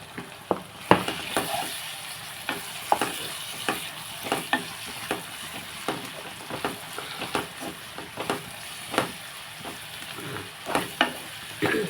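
Ginger garlic paste frying in oil in a pan: a constant close sizzle with sharp, rhythmic stirring taps every second or so, and no one speaking.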